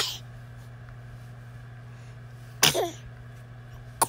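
A single sharp sneeze, probably from a baby, bursts out once near the end amid quiet indoor hum, followed by a faint snuffle.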